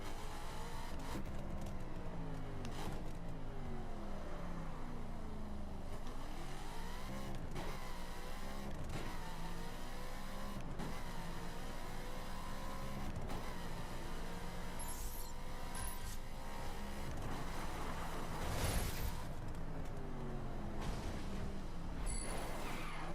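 A Ferrari driving in the racing game The Crew, its engine droning and sweeping up and down through gear changes over a long continuous run, moderately loud with no talking.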